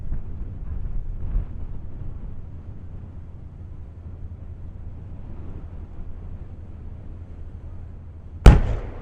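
A cannon fires once at old Fort Jackson in Savannah, a single sharp, loud boom that cracks over a quiet harbor background of low wind and boat rumble near the end.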